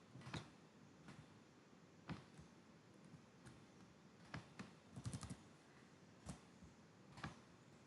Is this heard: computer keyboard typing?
yes